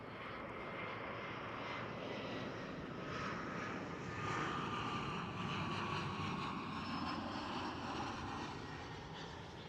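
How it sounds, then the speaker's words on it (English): A KLM Cityhopper Embraer E175 airliner passes at Schiphol airport, its jet roar steady and broad throughout, swelling slightly near the middle with a faint descending whine, no voices. "That's a KLM Cityhopper E175 you saw passing by on the screen."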